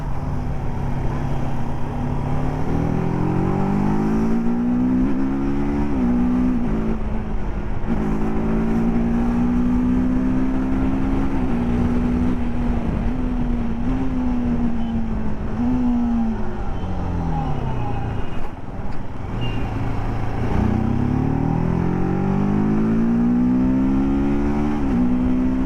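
A TVS RTR 310 motorcycle accelerating hard, its engine note climbing again and again with quick-shifter gear changes that cut in abruptly. Loud and close throughout, steady wind rush underneath, no talking.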